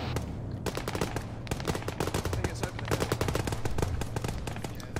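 Dense machine gun and rifle fire from a military battle in the ArmA video game, rapid overlapping bursts rattling continuously and loudly throughout with no pause.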